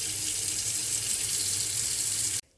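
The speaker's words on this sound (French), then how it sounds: "je vais remplir l'eau" Water runs from a kitchen tap into a container in a steady, close, full hiss that stops abruptly just before the end.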